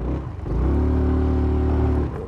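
A Honda SH 300i motor scooter engine, close and loud, running with a steady low hum that rises to a sustained drone and then eases off.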